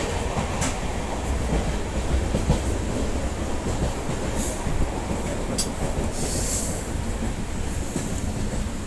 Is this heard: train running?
yes